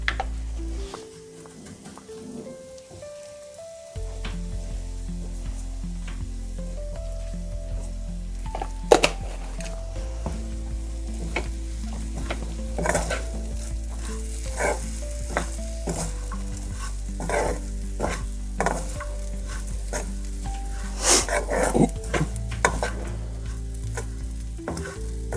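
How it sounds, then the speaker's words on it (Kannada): Bambino vermicelli frying in a pan for upma, a continuous close sizzle with frequent scraping stirs and scattered small clinks building over the length, no voices present. "ಅದಕ್ಕೆ ಇದನ್ನು ಸ್ವಲ್ಪ ಫ್ರೈ ಮಾಡೋದು"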